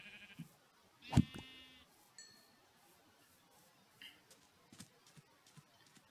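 Blocky game sheep bleat in short electronic bursts within a quiet Minecraft survival world, one clear bleat standing out amid faint clicks and footsteps, with a voice talking briefly.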